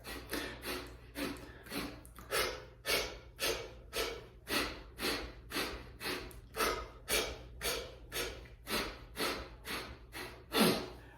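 A rhythmic breathing exercise: about twenty quick, forceful breaths in an even pulse, each a sharp airy rush close to the microphone, with a low steady hum underneath and no talk.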